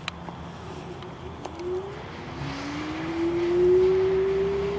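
Evercross H5 electric scooter accelerating in first gear, a thin motor whine rising steadily in pitch and growing louder over a few seconds, with faint background noise and a couple of small clicks.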